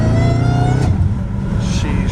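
Supercharged Dodge Hellcat Redeye engine revving from the driver's seat, a loud rumbling roar that climbs steadily and holds a dense, continuous drone with a few sharper bursts.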